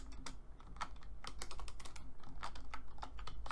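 Rapid, close clicking of a computer keyboard as code comments are typed into a Python script, with uneven bursts of keystrokes and no talking.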